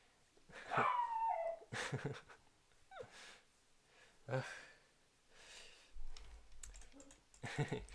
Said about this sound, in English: can you hear me over the sound of the dogs?